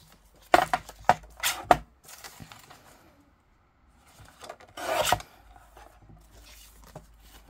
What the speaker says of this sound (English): Guillotine time.